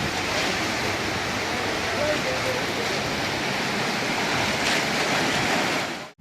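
Water of a river swollen after the rains rushes steadily beside a temple, a dense continuous roar with no break, close and loud before cutting off abruptly at the end.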